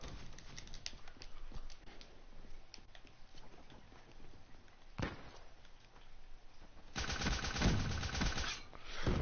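Scattered gunshots in Black Ops 3 multiplayer: quick clusters of sharp cracks early on, a single loud report midway, then a heavier, louder burst near the end, all fairly distant and without talk.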